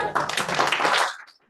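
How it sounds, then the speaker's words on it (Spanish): Participants in a workshop give a short burst of applause, a brief, close flurry of clapping that stops abruptly after about a second. "Un aplauso, chicos."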